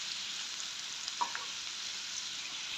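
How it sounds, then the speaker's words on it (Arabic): Potatoes sautéing in hot oil in a pan give a steady, faint sizzling hiss that runs unbroken throughout, with a couple of tiny crackles near the middle. "شوحناها في الزيت"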